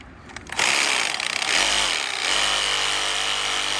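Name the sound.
Sawzall reciprocating saw cutting bonsai tree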